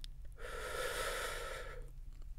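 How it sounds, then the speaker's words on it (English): A single deep, slow breath drawn in and held, close and steady for over a second, with a soft airy rush that fades away, no talking. "Just keep breathing."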